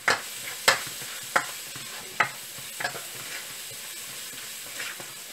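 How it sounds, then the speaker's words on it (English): Spices, turmeric and a pinch of asafoetida, are stirred in hot oil in a pan, with sharp spoon scrapes and taps at irregular intervals over a soft, steady sizzle. "Mix well."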